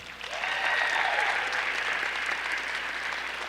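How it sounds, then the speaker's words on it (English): Audience applause at a chamber of commerce gala fills the room, a steady, dense wash of clapping hands that swells quickly and holds at full strength throughout, with no talk over it. "So just really quick, a round of applause for John Butterfield."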